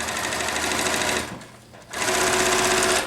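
A sewing machine stitching quilt squares, its needle running in a rapid, loud mechanical chatter that stops briefly and then starts again at full speed.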